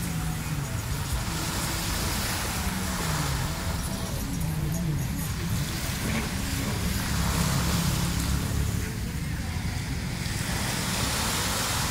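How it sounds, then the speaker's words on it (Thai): Evening sea waves wash onto the beach at Bang Saen, Thailand, as a steady roar of surf blended with wind noise and low rumble. The sound is continuous and fairly loud, without clear breaks between waves. "ครึ่งหลังเรามาฟังเสียงคลื่นกัน"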